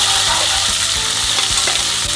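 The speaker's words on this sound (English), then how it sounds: "This is all on high, and then you are just stir frying it for like good minute." Garlic, chilies, onions and peppers stir-fry in a pan on high heat, a loud, dense, continuous sizzle broken by regular scraping strokes of the stirring utensil, with no voices.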